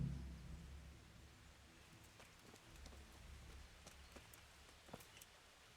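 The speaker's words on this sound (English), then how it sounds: "And as you can see, viewers, it's still raining." Rain falls in the medieval game Kingdom Come Deliverance, a faint, steady patter with scattered drip ticks and a low rumble at the start, quiet throughout with no talk.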